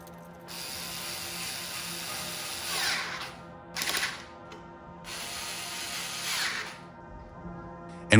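A power drill whirs in bursts while securing an electrolyzer to an engine frame, a ratcheting mechanical whine rising and easing over several seconds, close and alone.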